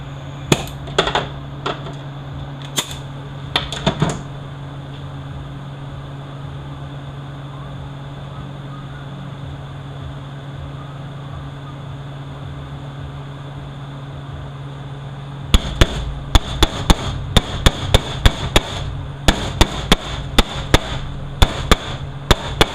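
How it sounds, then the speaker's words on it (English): A hammer strikes a Torx 25 bit during a 62TE transmission rebuild, sharp metallic hits coming in short bursts, first a few scattered blows, then a long pause under a steady hum, then a rapid run of repeated strikes. "Turn it and hit it with the hammer and turn it."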